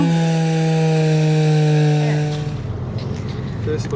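Someone sands the deck of a sailboat under repair with a power sander, a loud steady motor whine near the mic that drops into rougher, grinding contact noise.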